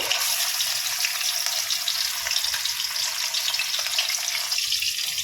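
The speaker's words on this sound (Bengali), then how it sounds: "মাছটা ভাজা হচ্ছে মাছটা ভাজা হয়ে ভালো করে" Fish pieces fry in a hot wok with a loud, continuous, dense sizzle and crackle that stays steady from start to finish, with no voices.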